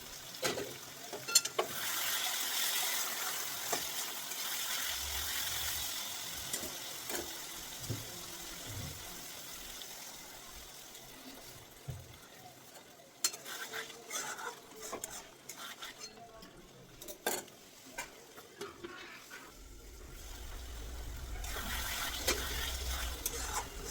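Chicken stomach (gizzards) being stir-fried in a spicy masala in a pan, cooked down slowly with small splashes of water; a steady soft sizzle with intermittent scraping and stirring clatter, close and moderately loud, no voices.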